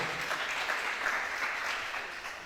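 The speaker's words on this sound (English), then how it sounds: "Please, a round of applause for the Deputy Rector." An audience applauds the Deputy Rector at a polytechnic staff association capacity-building workshop in Nigeria, with thick, steady clapping filling the room throughout at an even level.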